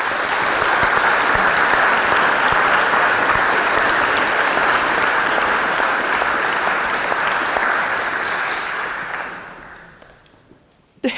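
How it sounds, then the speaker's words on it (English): A large debate-hall audience gives a warm round of applause to welcome the guests, loud and sustained for about nine seconds before it thins out and fades to near silence. "We all give them a warm welcome and a round of applause."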